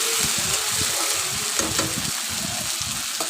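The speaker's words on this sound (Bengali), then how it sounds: "মশলাগুলো আমি 2-3 মিনিট ধরে ভালো করে একদম লো ফ্লেমে ভালো করে ভেজে নেব" Spice paste for egg curry frying over a low flame, giving a steady soft sizzle with faint stirring scrapes throughout, close and continuous, with no voices.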